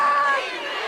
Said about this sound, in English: Now the LA crowd coming to life.